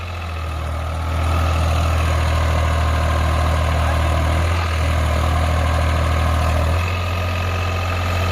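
A New Holland 3600-2 tractor engine runs loud and close with a cultivator, a steady heavy low drone that revs up early and drops slightly near the end.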